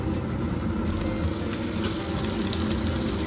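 Chopped onions dropped into hot oil for a vegetarian Mayapur-style biryani, frying with a loud, dense, close sizzle that holds steady throughout.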